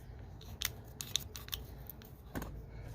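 Cutters snip a few times, sharp and close, while an RTD temperature probe is being replaced on a Traeger pellet grill, with faint handling noise between the cuts.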